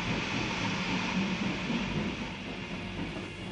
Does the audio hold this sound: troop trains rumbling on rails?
yes